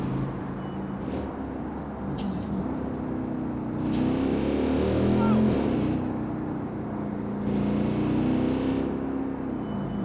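A motorcycle ridden in the Watch Dogs 2 open world drones with a steady engine hum that swells and revs through several throttle changes under light road noise.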